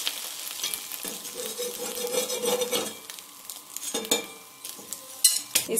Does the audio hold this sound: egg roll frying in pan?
yes